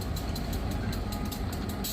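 A model railroad train pulls into a switching yard with a steady rumble and rhythmic clicking of wheels over rail joints, continuous and fairly close, with no talk.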